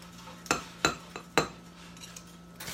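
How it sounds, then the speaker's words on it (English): Metal knife scraping and tapping against a metal garlic press to clear out pressed garlic, four or five sharp clinks close by in an irregular rhythm against a faint steady hum. "I always scrape the rest off with the knife"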